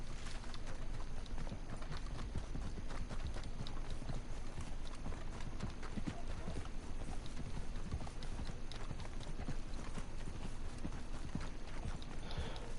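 Horse hooves clip-clop steadily on a trail in Red Dead Redemption 2, a continuous rhythmic gait heard up close over the game's ambient background, with faint player chatter.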